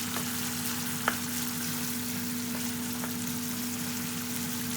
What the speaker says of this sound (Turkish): Kıymalar neredeyse kavruldu bile.